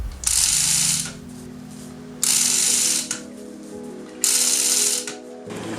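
Ratchet tightening bolts that fix a T5 transmission to a 302 engine: three loud bursts of rapid metallic clicking, each lasting about a second, separated by quieter gaps with a low steady hum in the background.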